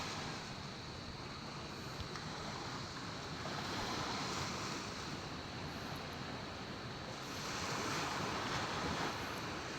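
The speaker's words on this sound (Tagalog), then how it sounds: "Ang hangin dito" Steady wind at a resort in Surigao del Sur, Philippines, buffeting the microphone, a broad rushing roar that swells and eases in gusts, with no other distinct sounds.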